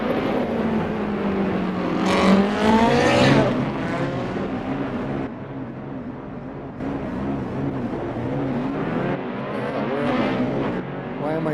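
A group of racing cars roars up through the gears, engine pitch climbing and falling as they pass one after another. The sound is loud and close at first and then eases slightly as more cars follow.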